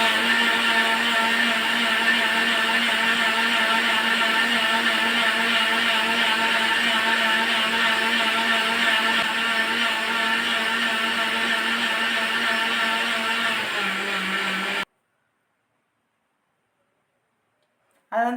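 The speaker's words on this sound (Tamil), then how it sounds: "இப்போ பார்த்திங்கன்னா மிக்சியில் தான் போடுறேன்" A kitchen mixer grinder churning curd into butter whirs loud and continuous for about fifteen seconds, then cuts off abruptly into silence before a brief restart at the end.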